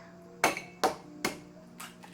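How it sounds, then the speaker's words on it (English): An egg is tapped against a cup of water: four sharp, close knocks at an even rhythm, the last one softer, over a quiet room. "Now crack the egg."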